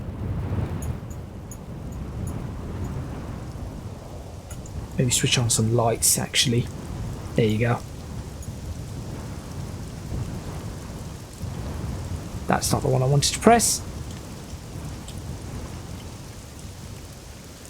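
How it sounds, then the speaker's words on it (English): In the Assetto Corsa racing game, a heavy thunderstorm with rain and wind plays as a steady rushing wash with low rumbles, while someone talks over it in two bursts. "I'll just do this so that you can hear the thunder"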